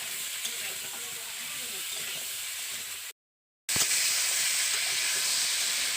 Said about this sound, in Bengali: আলু আর পটলটাকে প্রথমে আমি ভালো করে ভেজে নিচ্ছি।